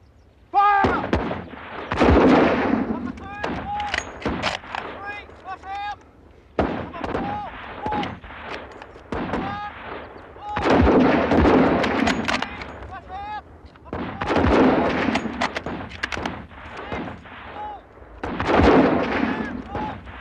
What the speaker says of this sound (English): At your targets! 10 rounds! Fire!